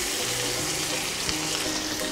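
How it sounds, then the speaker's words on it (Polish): Onion frying in a pan, a dense, continuous sizzle at steady moderate loudness, heard close up for a couple of seconds without speech. "I już sypia cebula."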